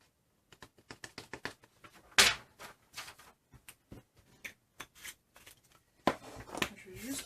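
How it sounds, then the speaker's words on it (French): Excess embossing powder shaken and tapped off a Christmas tag, a quick series of sharp taps and rattling flicks with two louder shaking bursts, close by and without talk. "Je vais juste secouer ça parce que j'en ai plein dessus"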